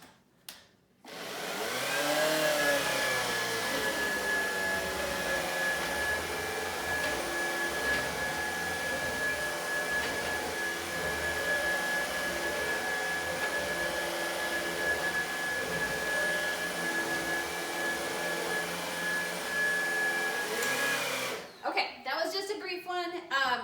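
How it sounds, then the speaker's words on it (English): A cordless vacuum cleaner starts up and runs on a floor with a steady high whine for about twenty seconds, then switches off, followed by a bit of handling noise. "So we'll do a little brief tutorial about vacuuming."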